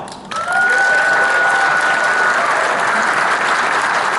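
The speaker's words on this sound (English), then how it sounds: "we really need to give him a round of applause and say thank you for answering the call." An audience at an elected officials' introduction breaks into sustained applause, loud and steady from just under half a second on, with a brief whistle or cheer riding over it early.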